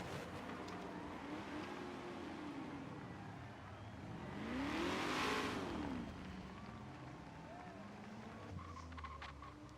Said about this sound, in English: But please stop drifting on the course.